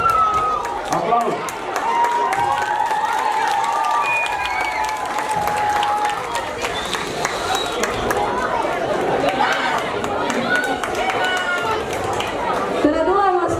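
Audience applause at an Estonian stage show, a dense, steady wash of clapping mixed with crowd chatter and scattered cheers, sustained loudly throughout.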